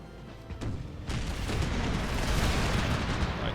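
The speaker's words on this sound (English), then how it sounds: "here is where he's decided to fire its howitzer shots" Howitzer artillery fire in the strategy game Empire 2: a couple of sharp thuds, then a dense, rumbling barrage of booms that keeps rolling for several seconds, loud and fairly close.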